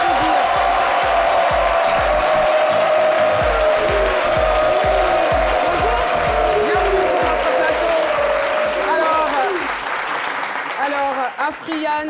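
A studio audience gives a guest sustained loud applause with a rhythmic clapping pattern, while upbeat music plays along and fades toward the end, where a voice comes in.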